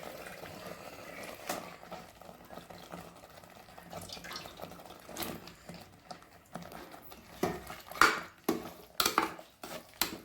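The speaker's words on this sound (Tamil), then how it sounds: "இப்போது நம்ம மட்டனை சேர்த்துக்கலாம்." Mutton added to masala in a pan for Chettinad gravy, scattered metallic clinks and scrapes of a spoon against the pan over a faint frying sizzle, growing louder and busier toward the end.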